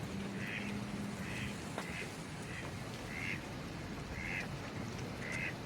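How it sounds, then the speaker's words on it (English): Mallard ducks at Clearlake, California give a steady series of short quacks at a lake, somewhat distant and faint, repeating every half second or so over a constant wash of outdoor background noise. "several different duck varieties here."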